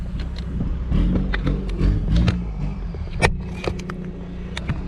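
A Toyota Fortuner engine idles with a low rumble, then its revs are blipped up and down several times, close by and with light wind on the microphone.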